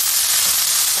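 Spinach dropped into a very hot pan of popped mustard seeds sets off a loud, steady sizzle that fills the whole brief moment, close and continuous with no voice over it.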